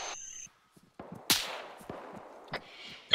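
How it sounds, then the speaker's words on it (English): Gunfire in a military video game set around a village: a few sharp, distant cracks scattered over a low, noisy background, with one louder report standing out. "Gunfire south southwest."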